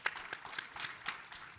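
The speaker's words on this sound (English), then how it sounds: "let's give her a round of applause." Audience applause at a panel event on the future of work, a steady wash of many hands clapping with a few sharper individual claps standing out across a short stretch.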